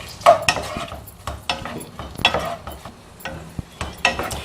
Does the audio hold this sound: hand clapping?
no